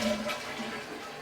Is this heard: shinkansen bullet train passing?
no